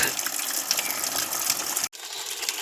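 Cold water gushes down steadily from above in a broad, hissing rush, which cuts out for a moment before the flow resumes, with no voices heard.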